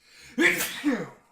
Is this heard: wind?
no